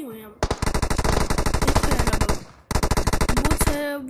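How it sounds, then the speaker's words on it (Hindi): Rapid automatic gunfire in a battle royale video game, two long bursts of loud, evenly spaced shots with a brief gap between them, close and dominant over faint background sound. "बहुत सारे बंदे गोलियाँ चला रहे थे"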